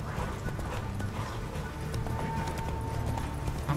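Hoofbeats of Roach, a horse galloping in The Witcher 3: Wild Hunt, drum in a steady rapid clip-clop rhythm, close and continuous over a mountain-climb game soundscape, with faint background sound and no talk.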